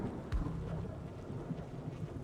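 Wrathful Rain ability in the Othercide video game: a soft thunder crack near the start, then steady low rumble and rain hiss, fairly faint, with no talk.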